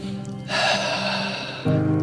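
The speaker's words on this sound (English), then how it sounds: "Take a breath now." A person takes a deep breath in a guided breathing exercise, one long steady breathy inhale up close, followed by a shorter rush of air at the end, with no talking.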